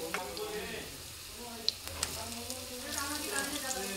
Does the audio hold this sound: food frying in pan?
yes